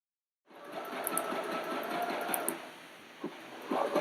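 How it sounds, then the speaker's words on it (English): A domestic sewing machine whirs in the background after a moment of silence, its rapid mechanical stitching rattle running continuously with brief pauses and a couple of clicks. "If you hear a sewing machine in the background, that's what it is."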